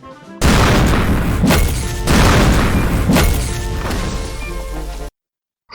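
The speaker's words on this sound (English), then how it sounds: "Let's listen to the shot of the tank." A tank cannon shot from the anime Girls und Panzer, heard as a loud, dense blast that roars on for several seconds, swelling with heavy thuds and crashing metal before cutting off abruptly.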